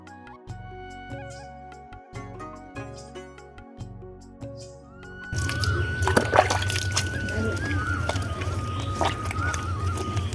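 A pet cat named Mini is bathed with shampoo: after a few seconds of music, water sloshes and splashes steadily up close, with a faint voice now and then.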